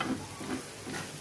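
Gram flour curry, pithla, cooks on a tava griddle with a soft continuous sizzle and faint bubbling, close and fairly quiet, with no voices.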